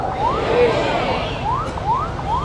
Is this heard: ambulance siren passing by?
yes